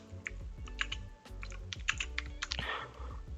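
Rapid typing on a computer keyboard, with irregular clusters of close, crisp key clicks and a louder, busier burst near the end. Nobody speaks.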